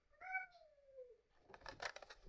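A house cat gives one clear, drawn-out meow that falls in pitch, followed by rustling and handling noises nearby.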